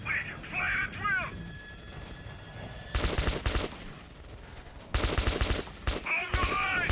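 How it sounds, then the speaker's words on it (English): Gunfire in the shooter game Metro 2033 Redux: two loud bursts of rapid automatic fire, separated by quieter stretches, with a voices in game. "Fire at will!"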